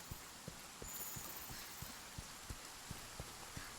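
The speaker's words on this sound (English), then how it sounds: "I don't remember it raining this much in the Ancient Forest. But, like, it is pouring right now." Heavy rain falls in a video game's Ancient Forest, a faint hiss of downpour with soft, regularly spaced low thuds running through it from start to finish.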